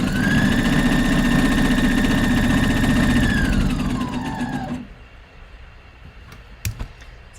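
Sewing machine runs a sleeve seam in one steady, loud whirring burst that slows and stops, followed by quiet with a couple of small clicks.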